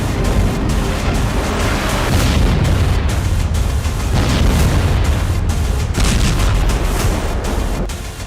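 Missile blasts in a Houthi strike on Israel: a loud, continuous barrage of deep rumbling booms and crackling bursts that roll over one another for the whole stretch, with no clear pause.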